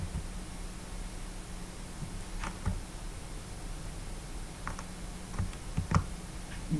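Quiet, irregular typing on a computer keyboard, scattered soft key clicks with occasional sharper taps, close but low in level over steady background hiss, with no talking.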